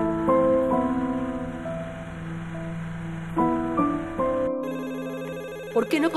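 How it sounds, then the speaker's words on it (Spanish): A telephone rings indoors with repeated tonal ringing phrases, loud and near, fading into quieter background before a brief closing sound. "¿Por qué no contestan el teléfono?"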